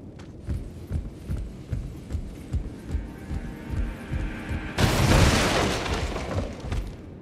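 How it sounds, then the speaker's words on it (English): Heavy, rhythmic thudding footsteps of a large creature in Elden Ring, booming low and steady beneath a humming game ambience, with a loud burst of broadband noise near the end. "I hear heavy footsteps."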